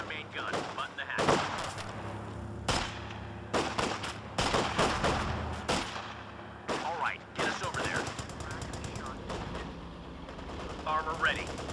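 Machine gun fire in the World War II strategy game Company of Heroes 2, with repeated sharp bursts and rattling volleys mixed with explosions, while in-game unit voices call out over the battle throughout.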